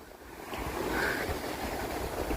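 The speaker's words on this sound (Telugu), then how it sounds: "అలలు ఒకటి ముందుకొస్తే ఒకటి వెనక్కి తరుముతూ ఉంది" Sea waves roll in at Adikadalayi beach in Kannur on Kerala's Malabar Coast, a continuous, fairly loud roar of surf with gentle swells in intensity and no voices.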